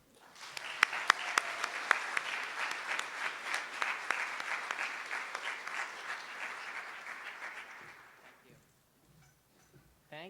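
A large audience at the HOSA opening session breaks into sustained applause welcoming Marcus Henderson, dense clapping with a few sharp individual claps, holding steady for about eight seconds before fading out.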